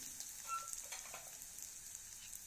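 Small shallots sauté in a clay pot for prawn masala, giving a faint, steady sizzle with a few soft crackles and light stirring touches.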